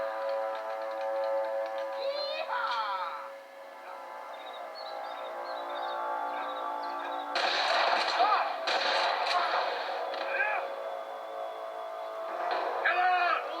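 Red Dead Redemption gunshots crack out in bursts over a steady musical score, with several sharp shots clustered in the middle and near the end.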